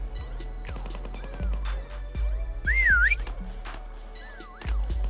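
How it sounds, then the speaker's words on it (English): Final whistle in Call of Duty WWII Prop Hunt, a sliding, wavering whistle tone heard in two bursts over sharp in-game clicks and thumps. "Final whistle."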